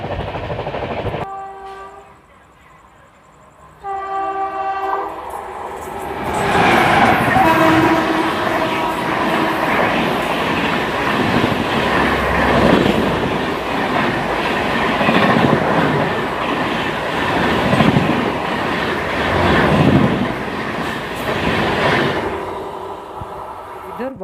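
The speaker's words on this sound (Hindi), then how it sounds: "इधर 12616 ग्रैंड ट्रंक एक्सप्रेस ने हमारी ट्रेन को ओवरटेक किया" Train 12616 Grand Trunk Express overtakes from alongside, heard from onboard a moving Humsafar Express: a horn sounds first, then a loud sustained roar of passing coaches with rhythmic wheel clatter lasting around twenty seconds before fading.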